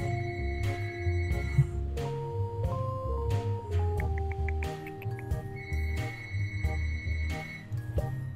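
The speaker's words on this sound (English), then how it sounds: "And then there's the phone in the background." A telephone rings in the background of the video game Hunie Pop: repeated electronic ringtone chimes with steady tonal bursts over a game soundtrack, fairly clear and continuous, with no talking.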